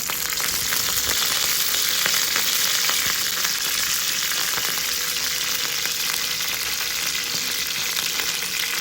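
Garlic cloves and curry leaves frying in hot oil with cumin for a Marathi moong vegetable dish give a steady, close, dense crackling sizzle that holds evenly throughout, with no talking.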